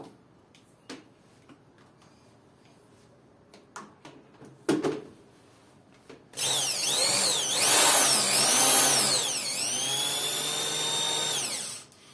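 A power drill twisting copper wire whirs loudly and steadily for several seconds, its pitch rising and dipping, after scattered clicks and taps.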